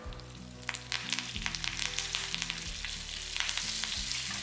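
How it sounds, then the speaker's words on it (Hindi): Urad dal, dried red chillies and curry leaves tempering in hot oil for a chutney, a steady close sizzle with frequent popping crackles over a low hum, no talking. "थोड़ा सा चला लेंगे ताकि उड़द दाल जो है अच्छे से क्रैकल हो जाए और पक जाए"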